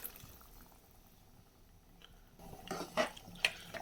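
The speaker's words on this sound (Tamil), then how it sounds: "கொட்டையில் எதுவும் தண்ணி இல்லை, அதனால் நான் கொஞ்சமாக தண்ணி சேர்த்துக்கிறேன்." Water is poured in small amounts into a pan of mixed-seed gravy, a faint low background followed by a brief splashing, trickling burst near the end.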